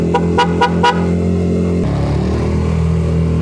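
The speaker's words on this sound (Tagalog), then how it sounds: "Eh busina ko" Four short, quick motorcycle horn toots ring out over the loud idling motorcycle engine, which then keeps rumbling on its own.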